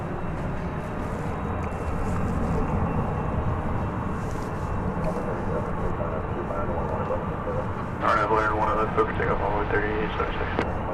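A plane from Harrison, Arkansas lands on runway 13 right at DFW Airport, heard as a steady broad jet roar that stays loud throughout with some crackle near the end, while someone talks over it.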